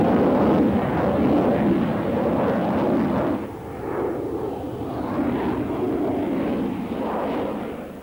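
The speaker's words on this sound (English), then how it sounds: "the Hornet is powered by two F-404 augmented turbofans" A McDonnell Douglas F/A-18 Hornet fighter jet with two F404 afterburning turbofans, a loud, rough, continuous roar that dips briefly and then rumbles on, powerful and close.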